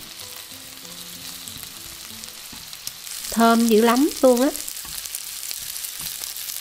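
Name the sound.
frying homemade Vietnamese sausage in oil in a pan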